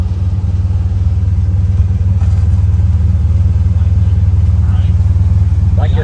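A 1973 Oldsmobile Cutlass Hurst/Olds with a 455 big block V8 and three-speed automatic idles with a steady, loud low rumble close by, the throb unbroken throughout.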